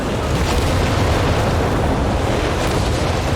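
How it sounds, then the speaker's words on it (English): A grenade goes off in the video game Company of Heroes 3, within a dense, loud wash of battle noise. Low booming rumble and broadband crackle run continuously, with a slightly brighter burst near the end. "And the grenade."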